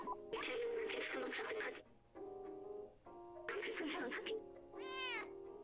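Cat meows from the video game Stray: several drawn-out, clear meows in a row with short pauses between them, loud and close over a quiet low background hum.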